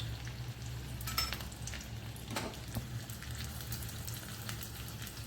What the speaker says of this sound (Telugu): ఇదిగోండి పోపు దినుసులన్నీ, పచ్చెనపప్పు, మినపప్పు, ఆవాలు, జీలకర్ర, ఎండుమిర్చి, మన వెల్లుల్లి, కరివేపాకు ఇవన్నీ వేసేసుకుందాం